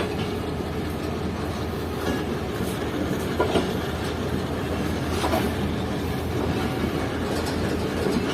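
Sukkur Express passenger train pulling out of Jacobabad station at night, a loud, close, steady rumble of rolling cars with faint rhythmic wheel clatter and occasional squeals, with no talking.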